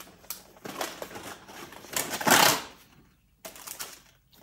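Scissors cut through a planner sticker sheet in a few close crisp snips, building to a louder burst of cutting before a short pause and a final quieter snip.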